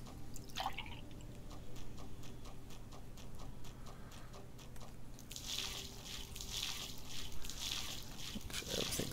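Crops being watered on the farm in the video game Dave the Diver, a run of soft splashy drips and sprinkles repeating in a steady pattern over ticking game sounds.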